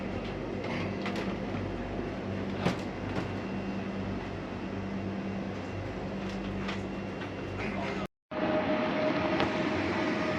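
A passenger train travelling by rail in Poland toward Gliwice, heard from inside as a steady, loud rumble of wheels and carriage noise, with a brief cut near the end before the rumble resumes.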